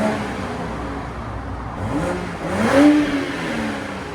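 Stock exhaust on a 2023 Toyota Supra GR with a 3.0L inline-six, revving up into a short rising roar that peaks and falls back, close and moderately loud, no talking.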